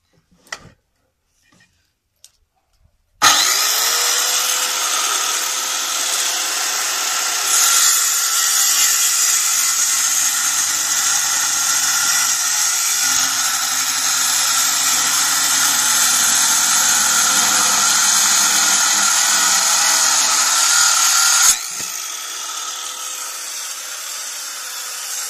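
A power tool cuts wood for a bench seat, starting abruptly after a few quiet ticks and running loud and steady for about eighteen seconds before easing to a lower whir.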